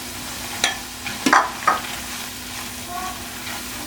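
Besan (gram flour) is stirred in hot oil with cardamom over low heat, giving a soft continuous sizzle with a few scraping spoon strokes and clinks against the pan.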